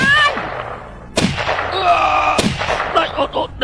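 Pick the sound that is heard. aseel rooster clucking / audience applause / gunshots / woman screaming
gunshots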